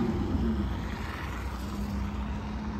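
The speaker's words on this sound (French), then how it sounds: "Vous entendez le V10?" An Audi R8 V10 Spider engine idles with a deep, steady rumble that echoes around Place Vendôme in Paris, loud and continuous for the whole stretch, with no voices over it.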